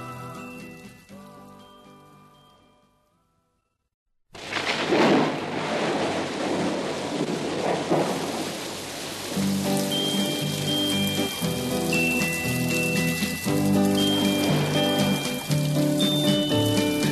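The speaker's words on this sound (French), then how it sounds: "la pluie qui ruisselle, frappant doucement sur mes carreaux" Steady rain falls and streams against window panes, a dense, even hiss of drops that starts after a brief near-silence and continues alone at a constant, fairly loud level with music playing along.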